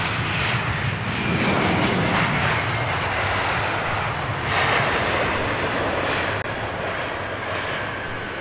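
An American Airlines Boeing 777 at London Heathrow, its jet engines producing a loud, continuous roar with a rising and falling whine as it holds near the runway, alone with no voices.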